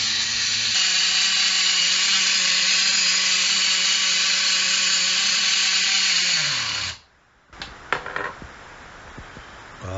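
A Reds Racing WRX nitro engine runs on Bones Brew break-in fuel, holding a loud, steady, high-pitched buzz for several seconds. It then winds down and cuts out, followed by a few faint clicks and handling noises.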